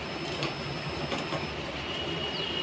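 Sewing machine running a narrow hem along the edge of a baby knicker, a steady fast mechanical whir with rapid rhythmic needle clicks, close and continuous, no voices.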